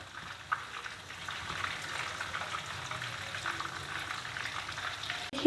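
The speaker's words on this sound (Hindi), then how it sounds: "ये देखिए हमारा चिकन कितने स्लो फ्लेम पर हम फ्राई कर रहे हैं।" Chicken frying in oil over a slow flame, turning golden brown, gives a steady, moderate sizzle and bubbling that runs on without a break, with a few faint clinks and no voices.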